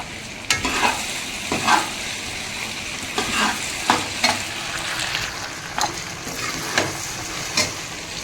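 Food frying in hot oil on a gas stove, a loud continuous sizzle broken by repeated stirring scrapes at a steady, uneven rhythm, close up.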